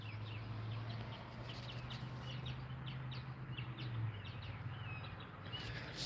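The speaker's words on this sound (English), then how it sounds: "Hear the birds singing?" Birds chirp and sing outdoors in short repeated high calls over a steady low hum, with fowl-like clucking mixed in at a feeder where birds eat large amounts of birdseed.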